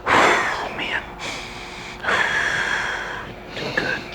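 A voice imitating heavy breathing after a fight round, with loud rasping gasps and long breathy exhales repeated in a labored rhythm, close to the microphone.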